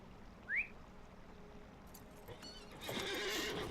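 A horse whinnies once in the video game Lord of the Rings Online, a short high call near the start, followed by clip-clopping hooves and a louder rush of ambient game sound toward the end.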